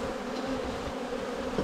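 A swarm of bees in a house attic gives a steady, dense buzzing hum that stays constant and close throughout, with no voices.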